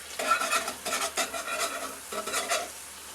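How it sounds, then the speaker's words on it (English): A spoon scrapes and stirs food simmering and sizzling in a pan, in repeated close, rhythmic strokes over a soft frying hiss, with no talking. "Let them simmer in there for a little bit. And keep stirring it so it doesn't burn."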